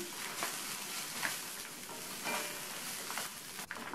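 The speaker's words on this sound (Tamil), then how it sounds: "மறுபடியும் இதை 1 நிமிஷத்துக்கு வதக்கிக்கணும்" Radish and torn tamarind sauté in a pan, a quiet, steady sizzle with soft stirring scrapes and a small clink near the end, heard close but faint for about four seconds.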